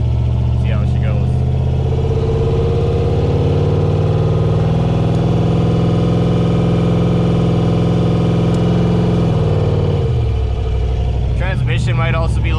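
Turbocharged 6.0 LS V8 car driving under load with a steady droning engine note that holds for about ten seconds, then drops in pitch as it eases off, with a faint transmission that may be low on fluid.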